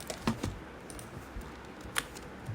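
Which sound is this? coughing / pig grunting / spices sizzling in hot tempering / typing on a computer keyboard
typing on a computer keyboard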